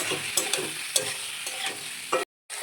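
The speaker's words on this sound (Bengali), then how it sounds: "খুব ভালো করে আমি এঁচোড় চিংড়ি মাছ আর আলুটাকে কষিয়ে নিয়েছি" Jackfruit, potato and shrimp sautéed in a pan for an echor chingri curry: a soft sizzle under repeated scraping stirs of a spatula, close and moderately quiet, with a brief dropout near the end.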